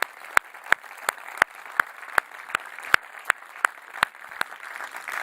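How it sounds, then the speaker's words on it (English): Audience clapping at a European tech conference sounds as sharp, evenly spaced claps in a quick regular rhythm, thin, as if from only a few hands, over a soft room hum. "Can we get one more round of applause?"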